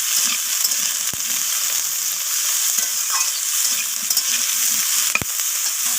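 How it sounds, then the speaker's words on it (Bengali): Eggplant pieces fry in hot oil with a steady, loud, close sizzle and crackle, broken by occasional stirring scrapes of a spoon against the pan. "তো আমি বেগুনটাকেও দিয়ে দিলাম তেলের মধ্যে। তো বেগুনটাকে আমি লালচে করে ভেজে নেব।"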